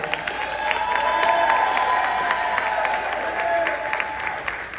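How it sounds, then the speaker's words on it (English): Applause and some cheering from an audience honoring seniors at a community State of the City address: sustained dense clapping, fairly loud, with a faint tonal hum running underneath and occasional raised voices in the crowd. "Give our seniors a round of applause."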